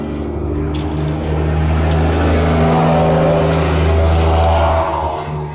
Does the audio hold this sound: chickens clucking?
no